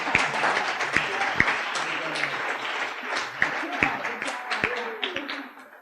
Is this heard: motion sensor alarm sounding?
no